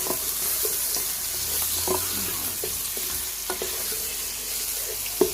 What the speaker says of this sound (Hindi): अब इसको थोड़ा सा भूनेंगे और इसकी स्मेल को ख़त्म करेंगे।